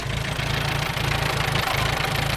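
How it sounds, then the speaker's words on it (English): A 1938 Case CC tractor engine runs steadily and loud, its fast rhythmic low thumping chug driving a threshing machine by belt at an antique equipment show, with no voices over it. "And this is the engine that drives the threshing machine."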